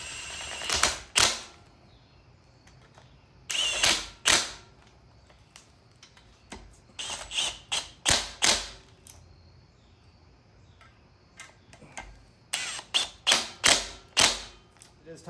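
Ratchet tightening bolts during an LS1 engine install into an S13: bursts of quick clicking in separate runs with pauses between, close and crisp against a quiet background.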